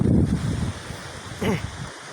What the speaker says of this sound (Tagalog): Malakas ng hangin.